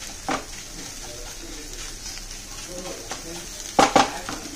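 Egg bhurji is stirred quickly in a pan over a high flame, with a steady sizzle under a few sharp metallic scrapes and taps, the loudest pair coming near the end.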